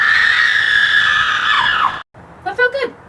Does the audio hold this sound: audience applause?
no